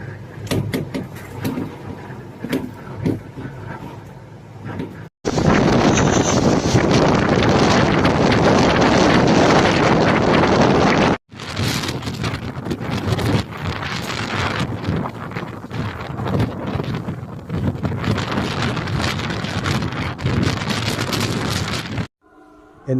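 Strong roaring Typhoon Koinu wind gusts in Fujian, China buffet the microphone, loud and continuous with brief drops, a harsh broadband rush throughout.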